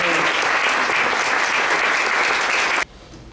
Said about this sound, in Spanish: pido un aplauso para toda esa gente que trabajó